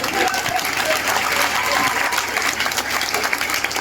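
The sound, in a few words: audience applause at poetry recital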